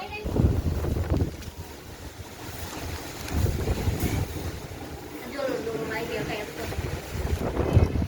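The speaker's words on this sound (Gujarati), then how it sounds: "અંબાલાલ પટેલે આગાહી કરીને એટલા માટે આ વાવાઝોડું આવી ગયું" A storm blowing through a rural Gujarati village, heavy wind roaring and buffeting the microphone in waves, with voices talking throughout.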